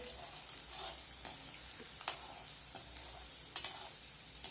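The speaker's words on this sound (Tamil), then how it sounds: "பூண்டு போட்டு நல்லா செவக்கணுங்க" Garlic frying in a pan for an Andhra-style sorrel leaf thokku, a soft steady sizzle broken by a few sharp stirring scrapes, close by and fairly quiet, with no voices.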